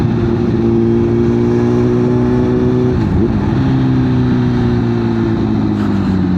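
A Honda CBR1000RR SC77 motorcycle in power mode 3 accelerates as the throttle is twisted, its engine roaring loud and close with a steady drone and a brief dip and rise in revs midway.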